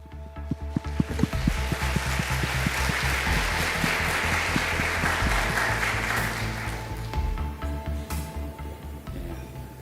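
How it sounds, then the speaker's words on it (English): Sustained applause from a forum audience welcoming a Korean vice minister of foreign affairs, dense steady clapping with sharper individual claps, loud and close, under a low musical hum, fading slightly toward the end. "please welcome him with a warm round of applause"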